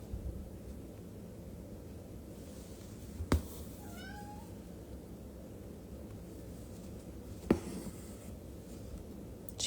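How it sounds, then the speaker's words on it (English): A house cat gives one short, faint meow midway through, set against a quiet room hum with a couple of sharp knocks before and after. "Now she's gonna meow at me until I get it for her."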